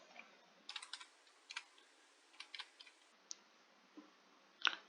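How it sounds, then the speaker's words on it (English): A password is typed on a computer keyboard: quiet, close key clicks come in short irregular bursts separated by brief pauses, with no voices. "I'm now entering the password for this student's account."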